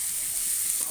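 Chicken curry pieces frying in a pan give off a steady, close hiss and sizzle that runs evenly throughout.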